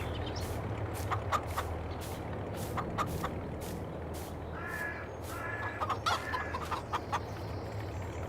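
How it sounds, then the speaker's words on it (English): Chickens in a Farming Simulator 22 farmyard cluck and squawk in scattered, fairly near bursts over a steady low ambient hum, with no talking. "We'll run over here and take a look at our chickens."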